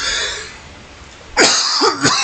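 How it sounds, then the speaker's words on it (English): A man coughs twice in quick succession, close to the mic and fairly loud, with a rasping throaty edge, following a stretch of quiet room hum. "Don't know why I keep coughing right now."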